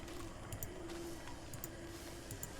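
In the Don't Starve video game, a bird coos softly in repeated short calls over steady ambient game noise. No talk is heard.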